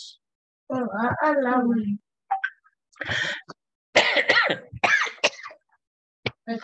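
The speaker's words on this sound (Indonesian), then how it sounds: "Maaf ya, batuk. Saya lagi batuk, batuk, batuk." A person coughs several times in short bursts, with throat clearing and hoarse vocal sounds between them, close and fairly loud.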